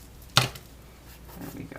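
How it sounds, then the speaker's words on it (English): Card paper gets trimmed during easel card and 3D flower assembly, making a single crisp, close snip that is otherwise surrounded by quiet room tone. "I cut it just a little long, and then I'll just trim it right here."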